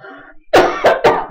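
Three quick, loud coughs follow one another closely, coming right after a few quiet spoken words.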